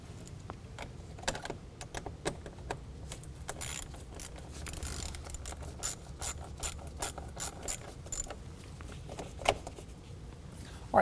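Rapid ratchet wrench clicks as an 8mm socket loosens a band clamp on the aFe carbon fiber cold air intake of a 2019 Ram 1500, coming in quick bursts with short pauses, close and fairly clear.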